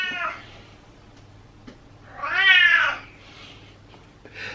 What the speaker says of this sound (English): I can't even hear myself think because of the meow out of them.